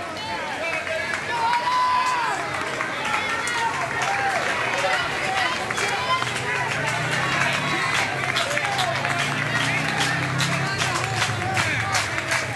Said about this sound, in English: Clever crowd trying to get something going here, making some noise right in front of us.